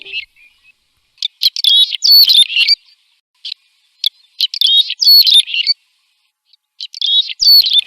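A swallow's bright, twittering song comes in several short bursts of rapid chirps and trills, separated by silent gaps, close and clear with no other sounds.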